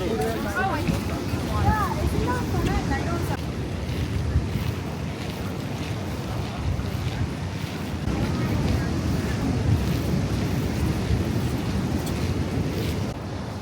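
High-tide ocean waves at Mission Beach wash in continuously, a broad, loud surf roar mixed with heavy wind buffeting the microphone for the whole stretch.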